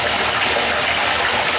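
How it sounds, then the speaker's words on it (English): Water pours steadily in a tub, rinsing soap off a pumice stone: a continuous close gush with no pauses. "let's rinse the soap and the pumice off"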